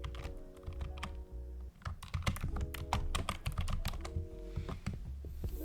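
Steady, rapid typing on a computer keyboard while a flyer is laid out in Adobe Photoshop, with dense bursts of close key clicks and brief pauses, and no talk.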